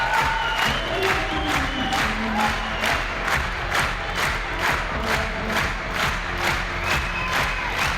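Crowd at the La Sportiva Legends Only 2013 climbing competition cheering and shouting in a steady roar, with rhythmic pulses of clapping or chanting running throughout.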